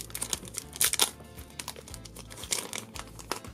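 Plastic wrapping on a pack of Shopkins collector cards crinkles and tears as it is pulled open by hand without scissors. Short, sharp bursts of rustling sound close by, with quieter handling in between.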